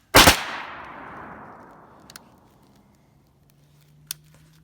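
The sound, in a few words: rifle with Fostech Echo 2 binary trigger firing two shots per pull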